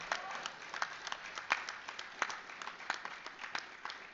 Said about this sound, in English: That's right, clap for that.